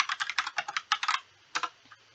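Quick keystrokes on a computer keyboard come in a fast burst, then pause, then a few more clicks follow. The taps are close and crisp, with no voices.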